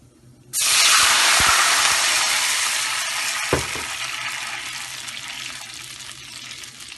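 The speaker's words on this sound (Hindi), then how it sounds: "अब हम इसमें डालेंगे 2 कप पानी।" A sudden loud burst of sizzling as two cups of water hit hot oil with crackling cumin seeds, a broad hiss that slowly fades over several seconds, with a couple of faint clinks.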